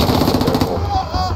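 A burst of rapid machine gun fire in the tactical shooter game Squad, loud and close, firing continuously for about a second before cutting off.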